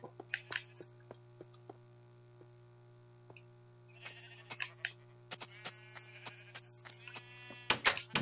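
Sheep in the Minecraft video game on Xbox bleat in short, repeated electronic-sounding calls, a quick cluster at first and then more spaced out, over a steady low mains-like hum.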